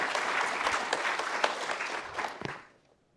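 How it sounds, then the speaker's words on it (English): An audience at a Human Cell Atlas scientific meeting applauds steadily for a few seconds, a dense wash of clapping that tapers off and fades out at the end. "I want to give her a little clap here"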